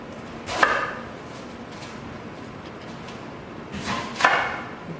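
Knife chopping through cabbage leaves on a board while preparing kimchi, two clusters of close, crisp cuts separated by a quiet pause.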